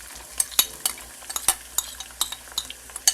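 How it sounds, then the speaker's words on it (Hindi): Onions frying over ginger in a pan on a home stove, with light sizzle under repeated sharp scrapes and clinks of a spoon stirring against the metal, close and fairly loud, no talking. "अब इनको, प्याज को मैं अच्छे से फ्राई कर लूँगी।"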